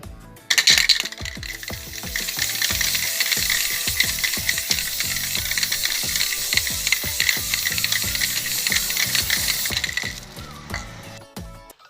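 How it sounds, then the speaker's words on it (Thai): A spray-paint can is used to coat a homemade piggy bank. A loud, continuous hiss runs for about nine seconds with rattling, clicking bits beneath it, then cuts off abruptly, with no voices. "พี่ออมก็จะนำตัวกระปุกขนมนะคะ ไปพ่นสีสเปรย์เพื่อความสวยงามนะคะ"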